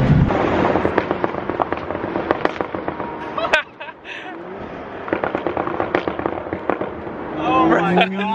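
A BMW 435i fitted with catted downpipes and a burble tune crackles and pops from its exhaust, rapid sharp bursts in loud clusters with a brief lull in the middle.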